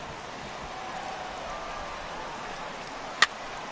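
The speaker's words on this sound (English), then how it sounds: "It's raining cats and dogs out there." Heavy rain falling on a baseball stadium in a video game, a steady even hiss of rainfall throughout, with one brief sharp click near the end.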